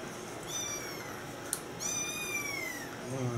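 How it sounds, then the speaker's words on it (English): Kittens meow in a few drawn-out, high cries, two main calls with a faint one at the end, over quiet background with a brief click between them. "Them kittens getting on my nerves."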